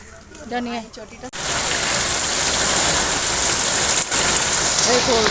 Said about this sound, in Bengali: পুরো বৃষ্টি চলে আসলো